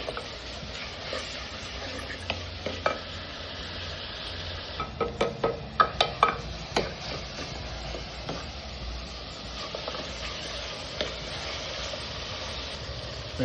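Spoon stirring in a frying pan right after asafoetida powder goes into hot oil, a steady sizzle under a run of sharp clinking scrapes that cluster in the middle, close and fairly loud.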